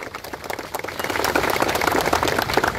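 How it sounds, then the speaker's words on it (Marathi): Audience clapping loudly at a Marathi community gathering in Thane, a dense, continuous patter of many hands that swells and holds steady throughout, with no speech over it. "जोरात टाळ्या वाजवा."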